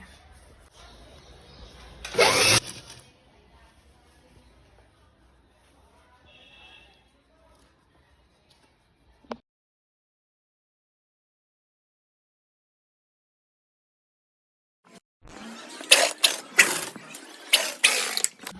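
Sewing machine running long stitches on an umbrella gher gown: a short mechanical whir near the start, then long quiet, and finally several rapid, loud clattering runs close by.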